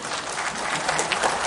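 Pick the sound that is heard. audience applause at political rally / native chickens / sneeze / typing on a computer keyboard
audience applause at political rally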